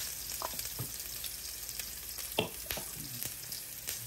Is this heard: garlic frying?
yes